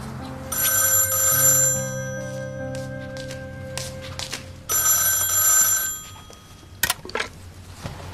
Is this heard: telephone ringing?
yes